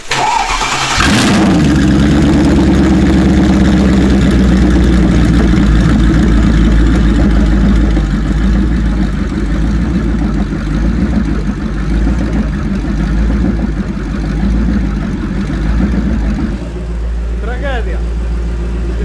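A Mercedes S-Class 5.0 V8 fires up and settles into a loud, lumpy idle with a deep, rumbling exhaust without catalysts, steady and close throughout.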